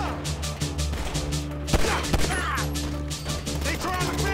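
Gunfire during a gang street shootout in the video game GTA V on PS5, with dense rapid bursts of shots and a few sharper cracks, continuous over a steady musical backing.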